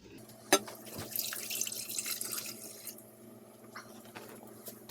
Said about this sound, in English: we're gonna pour it into the pan